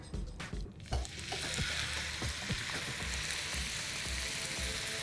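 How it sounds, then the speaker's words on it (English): A large chuck roast sears in a hot Lodge cast iron pan, a loud continuous sizzle and crackle with a few sharp pops and clunks of the meat being set down and shifted. "When you want to brown a large cut of meat like this, big chuck roast"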